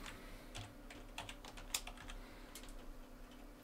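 Quiet, brisk typing on a computer keyboard, a quick irregular run of key clicks with one sharper tap near the middle.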